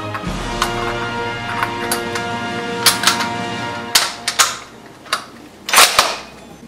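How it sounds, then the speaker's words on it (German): A Karabiner 98k bolt-action rifle is loaded with a five-round stripper clip: a series of sharp metallic clicks and clacks, bolt working and rounds pressed in, ending in a few louder snaps close by. "Der Karabiner 98 Kurz wird mit einem 5 Schuss Ladestreifen geladen."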